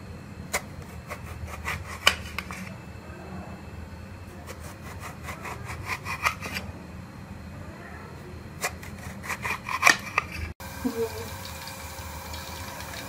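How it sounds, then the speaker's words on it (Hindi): Eggplant cut with a knife into thin round slices, giving repeated short slicing and scraping strokes in bursts, close and moderately loud over a low kitchen hum, with a sharper clack near the end. "इसके पतले पतले से स्लाइस काट लें गोल शेप में"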